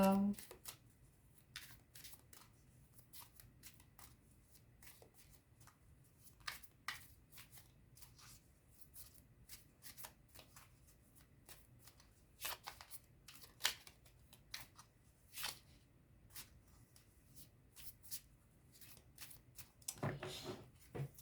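Tarot cards shuffled for a reading, a soft, irregular riffling and slapping of card stock that continues in scattered bursts, with quiet talk and a brief rise toward the end.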